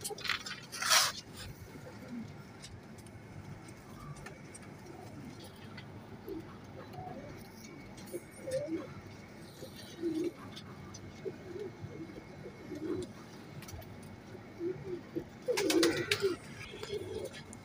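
Teddy pigeons, a breeding pair with eggs, coo in soft low repeated bursts throughout, with a few sharper wing or perch noises near the start and end, fairly close against a faint background.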